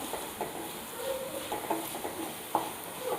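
A quiet sauté for a Kottayam-style tuna fish curry, with onions being browned in a pan: soft sizzling under occasional scrapes and stirring knocks, close but faint.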